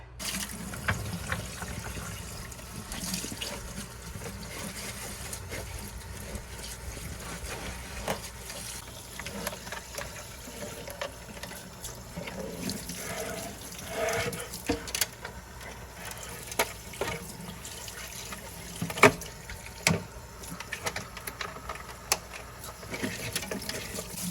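Water running steadily from a tap into a sink with dish soap and lukewarm water, with scattered clinks and splashes of washing throughout.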